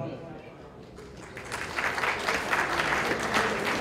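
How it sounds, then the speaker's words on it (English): An audience at a university alumni event in Thapar applauds. The clapping starts thin and builds into steady, dense applause. "A big round of applause, everyone."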